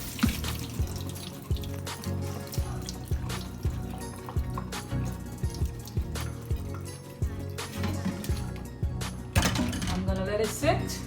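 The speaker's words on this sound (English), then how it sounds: "I'm gonna just run up some cold water on it" Cold water runs from a kitchen tap onto lasagna noodles, a steady close splashing with clinks and handling noises mixed in throughout.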